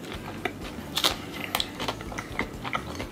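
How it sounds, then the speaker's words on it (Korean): Someone bites into and chews a Korean convenience-store sandwich of ham, tomato, lettuce, bacon and cheese, with crisp crunchy bites and quieter chewing close to the mic, and no talking. "아삭아삭 풀떼기가 씹혀주면서, 꾸덕꾸덕하게 또 치즈가 씹혀주면서"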